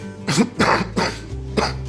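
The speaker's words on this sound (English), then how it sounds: "And give a bit of a cough." Several rough coughs in quick succession, close and fairly loud, over a steady low hum.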